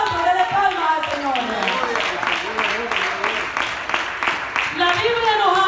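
A church congregation claps for the Lord during a sermon, a steady rhythmic beat of many hands running throughout, mixed with voices and singing.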